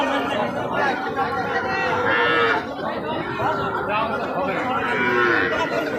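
Small calves mooing at a cattle market in Joypurhat, repeated bellowing calls close by over a constant crowd murmur, with someone talking through much of it.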